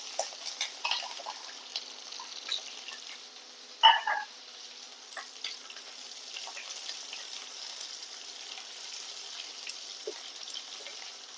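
Chopped onions fry in a pan of hot oil with curry leaves, giving a faint, steady sizzle and crackle throughout. A single sharp clink near the middle could be a utensil.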